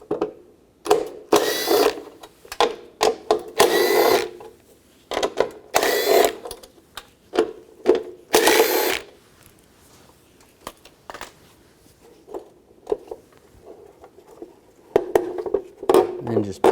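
Ratcheting of a 10mm socket wrench loosening four nuts on a 2004-08 Nissan Maxima front driver's side window regulator, in short repeated bursts of clicking with pauses between, close up.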